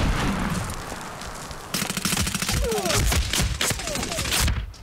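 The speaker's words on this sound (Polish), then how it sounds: "to rzucę tutaj granat" A thrown grenade in the shooter game Medal of Honor: Warfighter goes off amid a loud burst of gunfire, with rapid overlapping shots and booming blasts crackling through the scene.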